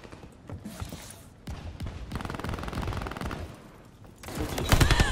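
Sustained automatic gunfire in the shooter game Call of Duty Vanguard: dense, rattling volleys close by, easing briefly and then returning louder at the end.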